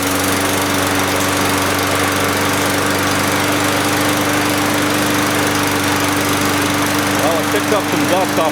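A small push lawn mower engine runs at a steady, close drone after starting, with a constant buzzing hum throughout and a brief voice near the end.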